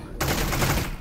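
Automatic machine pistol firing in Half-Life Alyx, one rapid burst of shots that fills nearly the whole second, loud and close with no gaps between rounds.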